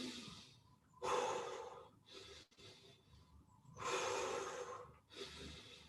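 Heavy, deep breaths during a kettlebell and resistance-band workout, several loud gasping inhales and exhales in uneven bursts separated by short quieter pauses, close to the microphone.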